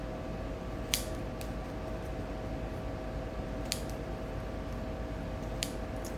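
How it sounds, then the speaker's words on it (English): Scissors snip the ends off a four-leaf clover sealed in tape, three crisp separate cuts spaced a few seconds apart over a quiet, steady background hum. "we're going to take a pair of scissors and cut the ends off"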